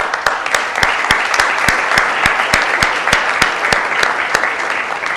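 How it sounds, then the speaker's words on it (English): A city council meeting audience claps steadily in warm, sustained applause with a few louder individual claps standing out close by. "please join me in giving them a round of applause"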